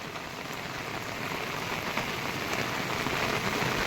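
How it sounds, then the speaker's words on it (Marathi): Heavy monsoon rain pours in a flood-hit village, making a dense, steady hiss that stays loud and even throughout without any voices. "सकाळपासून मुसळधार पाऊस."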